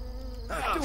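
Bees buzzing in the video game Two Worlds 2, a short, close, wavering drone that swells louder in the second half.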